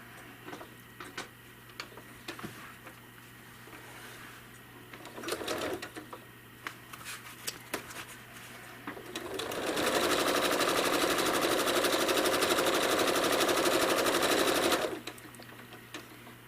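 A home sewing machine free-motion quilting a quilt runs in a steady, close, buzzing whir for several seconds, preceded by quieter handling clicks and taps and followed by a low background hum.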